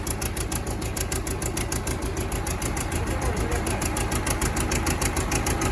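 A YuMZ-6 tractor engine runs rough on only two cylinders, a steady rhythmic knocking chug that is loud and close throughout.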